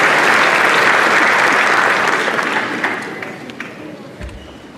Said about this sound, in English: applause for Alderman Ed Bug and Team Bug